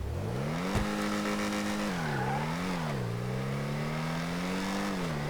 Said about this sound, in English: one thing that is different is the sound of this car. It's somewhat recycled, but a slight variation I can say when it is in the idling position